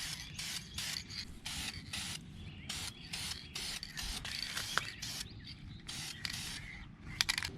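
Brake calipers being spray painted in coats, a close hissing aerosol spray in rapid repeated short bursts with brief gaps, fairly faint overall.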